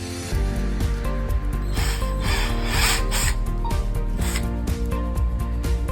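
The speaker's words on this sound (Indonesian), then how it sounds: "Selanjutnya kita akan mencoba memutarkan skrup ini masuk ke dalam kayu." A WILLRY cordless battery drill drives a screw into wood, giving a steady close motor whine with grinding, rubbing friction as the screw bites in, continuous for several seconds.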